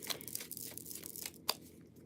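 Tarot cards are shuffled by hand, making soft, crisp riffling and rustling bursts with a sharper snap near the end, fairly quiet and close with no talking.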